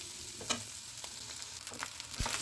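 Fried rice with egg, fried potato and beans being stirred in a pan, a soft continuous sizzle broken by several sharp spatula scrapes and clinks, close and fairly quiet.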